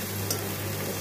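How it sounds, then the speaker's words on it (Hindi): Fenugreek leaves fry in a pan for aloo methi while being stirred, a steady close sizzle with a faint scrape of the spoon partway through. "मेथी को हिलाते रहेंगे"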